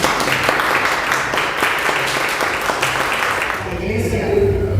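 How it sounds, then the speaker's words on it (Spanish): A church congregation claps together for a couple of seconds in a loud, dense burst that thins out toward the end, with a voice and some low sound rising under it. "Denle un aplauso a Dios entonces."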